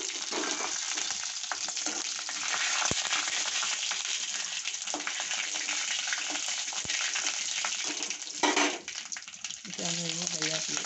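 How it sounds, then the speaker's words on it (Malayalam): Dried red chillies dropped into hot oil after mustard seeds have spluttered, tempering for an onion pachadi: a loud, continuous close sizzle with crackling pops throughout, a brief stirring clatter near the end. "കടുക് പൊട്ടി കഴിയുമ്പോൾ ചുവന്നമുളക് ഇടുക"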